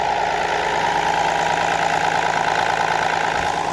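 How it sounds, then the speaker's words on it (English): A diesel car engine idles steadily up close with the bonnet off, a loud, even, knocking rumble that runs unbroken throughout. "That's what a diesel sounds like when it's running."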